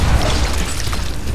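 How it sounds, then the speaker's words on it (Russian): Zombie heads burst in the co-op video game Dying Light, a loud, dense, booming explosive blast that lasts a moment. "У них голова взрывается."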